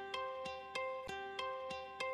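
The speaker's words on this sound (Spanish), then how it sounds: "Lo primero que agregamos, este loop, también lo sacamos de Arcade." A looped sample from Arcade sits in a trap beat, sustained tonal layers under sharp percussive hits that repeat about every third of a second, steady and fairly quiet with no voices.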